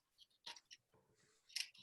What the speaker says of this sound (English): you're going to take your scissors and make, this is going to be the fringe, and you're going to make small cuts into the circle